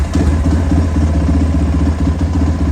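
A dirt bike engine idles in neutral, close and loud, with a steady rhythmic clatter and a low, even putter and no voices.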